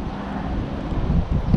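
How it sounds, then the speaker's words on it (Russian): Steady wind rumbles and buffets across the microphone, low and continuous, with a few stronger gusts near the end. "Везде ветер, ищу под ветреную сторону."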